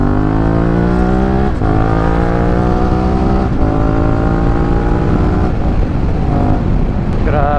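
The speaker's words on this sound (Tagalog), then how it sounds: "Grabe yung bilis ng motor." A motorcycle speeds along a highway near Malico, its engine note loud and close, rising and falling through gear shifts with sustained revving and no voices over it.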